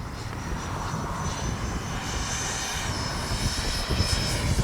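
A Freewing 90mm F-22 V2 RC jet makes a gear-down pass in wind, its steady ducted-fan whine and roar holding loud and constant with a slight swell near the end.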